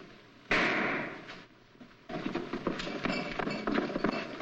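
A gunshot sound effect in an old-time radio crime drama: one sharp, loud report cracks out near the start and fades, followed by a busy stretch of rumbling and scuffling noise.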